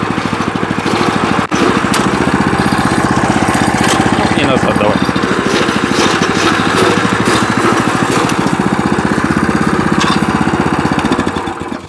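A walk-behind tractor's small engine runs loudly in first gear, a close, steady chugging drone with fast pulsing throughout and no breaks.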